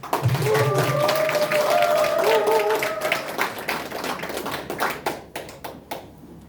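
Audience at a Daejeon party constituency report event clapping for an acoustic guitar singer-songwriter, a dense crowd applause running loud over a sustained tone, then thinning into scattered claps that fade toward the end.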